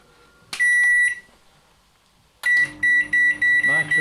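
A microwave oven beeps loudly as it is switched on, giving one long beep, then a pause, then a series of short beeps, with a voice faintly heard near the end.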